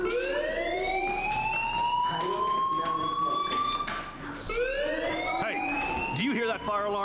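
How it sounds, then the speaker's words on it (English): A video game fire alarm wails continuously with rising, sweeping tones that restart partway through, fairly loud over a busy background. "do you hear that fire alarm?"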